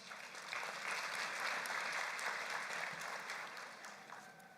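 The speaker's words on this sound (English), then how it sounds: "Let's give our Chancellor a round of applause." A graduation audience applauds the Chancellor, a soft, distant wash of many hands clapping that swells and then eases off, with no voices on top.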